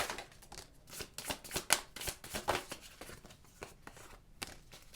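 Astrology cards being shuffled for a love-reading pick-a-card spread: a rapid series of crisp riffling snaps and papery slaps, irregular but continuous, close and fairly loud with no voices.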